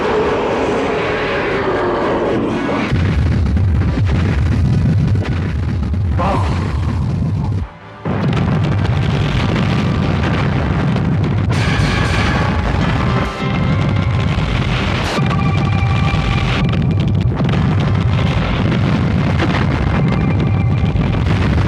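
A massive, roaring explosion of a planet being destroyed in a TV series rumbles on at high volume, deep booms rolling and crackling with a brief drop-out before the blast resumes.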